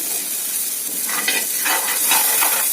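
Semolina (rava) dry-roasting in a pan for sweet corn upma, stirred with a utensil, giving a close, steady scraping sizzle with rhythmic stirring strokes and no talking.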